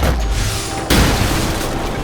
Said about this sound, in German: Sehr praktisch, diese Bomben. Haltet euch einfach von der Explosion fern.